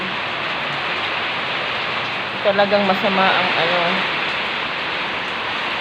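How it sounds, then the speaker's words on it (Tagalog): Steady rain falls outside during bad weather in Laguna, a constant close hiss that lasts the whole time, with a voice speaking briefly over it in the middle. "umuulan talaga siya."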